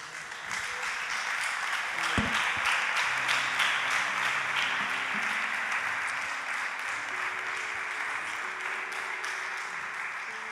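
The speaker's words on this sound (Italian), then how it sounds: "Chi è che crede che Gesù merita un applauso?" Sustained applause from a church congregation at an Italian worship service, a steady dense clapping that runs for about ten seconds with organ or keyboard notes sounding beneath it.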